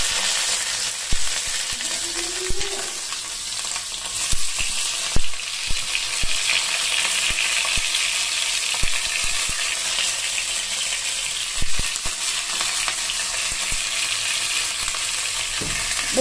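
Tomatoes fry in a pan for a chutney, giving a loud, steady broadband sizzle with scattered soft knocks from stirring, close up and with no one speaking.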